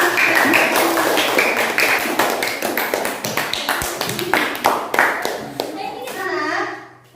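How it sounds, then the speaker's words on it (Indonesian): A group of students claps their hands together in a classroom, a dense run of sharp, close claps that continues steadily for several seconds before trailing off, with a voice heard near the end. "Silakan untuk teman-temannya tepuk tangan untuk"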